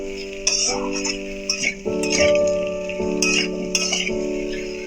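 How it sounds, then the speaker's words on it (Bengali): Pumpkin pieces being stirred with spices in a pan, a spoon scraping and clinking against the metal in irregular strokes over a soft sizzle, with steady tonal background music throughout. "সমস্ত মশলার সাথে কুমড়োটা ভালো করে নাড়িয়ে নিতে হবে"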